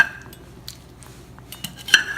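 A knife and metal utensils working on a cooked turkey, light scraping with a few sharp clinks against a pan or plate, close and fairly quiet.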